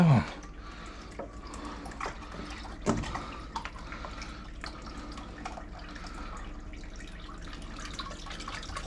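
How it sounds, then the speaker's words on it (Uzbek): Water runs and splashes steadily into a large bottle for an aquarium, a continuous low gurgling pour with a few clunks near the start. "5-bakalashkamiz hozir suv quyilyapti."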